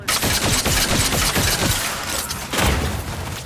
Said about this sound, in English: He's shooting missiles at us.